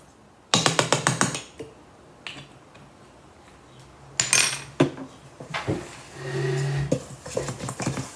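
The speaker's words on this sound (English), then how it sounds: "And I'm going to stir to combine that." Spoon clinking against a bowl while egg and vanilla are stirred into blondie batter, bursts of rapid scraping taps separated by quiet pauses, close and fairly loud.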